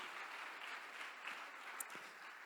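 Faint, distant applause from a church congregation, a soft steady wash of clapping heard from far off, with one brief sharper sound partway through.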